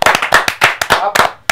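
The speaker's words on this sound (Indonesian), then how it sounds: "Tepuk tangan untuk Anggi." A small group claps briefly in a quick burst of sharp, close handclaps, about eight distinct claps that roll into a short uneven round before stopping.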